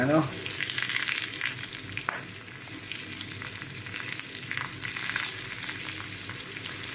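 Dried fish and eggs sizzle and crackle steadily in a hot frying pan, a dense, continuous spattering close up, with a few sharper pops and light stirring throughout.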